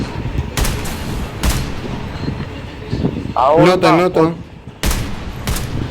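Sniper rifle shots in Call of Duty Mobile battle royale, sharp loud cracks spaced a second or more apart, with someone talking in Tamil in the middle.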